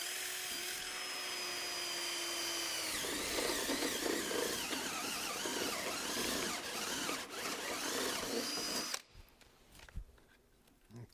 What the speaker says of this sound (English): I pop these holes with a vary bit, 3/4 inch vary bit, and I just drill these holes